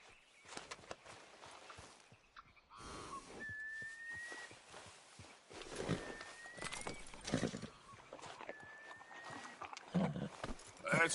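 A horse ridden in a Western open-world game, hooves clopping in an uneven walking rhythm with snorts and a few whistled notes from the rider, fairly quiet and close.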